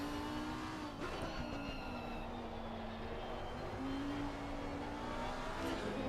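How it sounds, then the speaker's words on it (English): A Porsche GT race car lapping the Barcelona circuit in a racing simulation, with a steady droning engine note that shifts pitch through the corners, heard fairly faintly and constantly without talk. "That Porsche just started pulling away like halfway through that corner."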